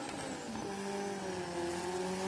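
A four-cylinder Pro 275 drag racing car in a Cefiro body screams at high revs on a qualifying run, its whining pitch climbing and sliding steadily as it drives hard, loud and close.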